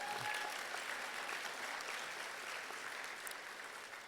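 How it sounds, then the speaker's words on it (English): Steady round of applause from a college commencement crowd, continuous and fairly even, tapering slightly at the end. "a round of applause"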